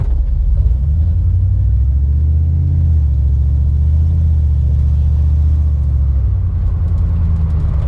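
Nissan S15 heard from inside the cabin while driving over potholed road, a loud, constant low engine and road rumble with slight shifts in pitch and no distinct separate impacts.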